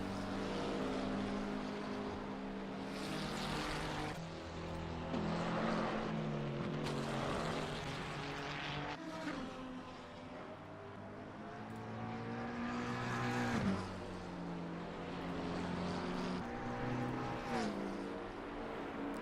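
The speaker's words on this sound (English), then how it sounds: "As we are now on board with Miska in the Camaro GT4." Onboard a Camaro GT4 race car at Donington Park: the engine roars steadily close up, its pitch climbing through the gears, with sharp cuts at each shift and dips under braking, and no voices over it.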